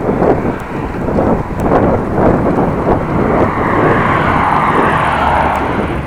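Strong wind buffets the microphone throughout, a loud, steady low roar with gusting rumble, recorded outdoors on a drive along the N360 road between Appingedam and Groningen on a sunny but windy day.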